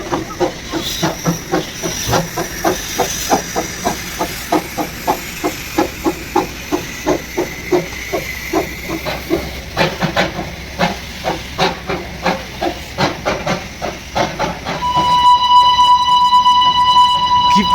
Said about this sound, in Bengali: এখনই ছাড়বে ট্রেনটা, ছেড়ে দিয়েছে স্টিম ইঞ্জিন।